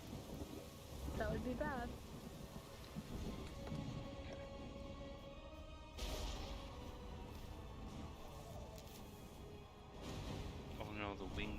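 Thunder and rainstorm in the platformer Ori and the Will of the Wisps, steady rain hiss with heavy thunder cracks and rumbles, a voice speaking briefly over it.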